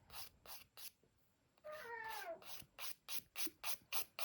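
Pet cat meowing once in a drawn-out, wavering cry, surrounded by a run of soft, evenly spaced rasping strokes, close and fairly quiet.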